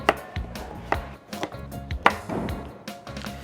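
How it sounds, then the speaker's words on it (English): Knife chopping butternut squash into chunks on a board, several sharp close thuds at an irregular rhythm with a dull woody knock. "just cut them into smaller chunks so that they actually cook faster"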